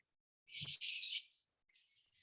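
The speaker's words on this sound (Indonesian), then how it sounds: "suara burung tidak mengganggu suara saya?" Birds call outdoors in a few high, bright chirping bursts, the longest lasting under a second, with a fainter call afterward and otherwise quiet surroundings.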